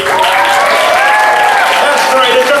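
An audience applauding at a cosplay masquerade convention event, dense steady clapping filling the hall continuously and loudly throughout.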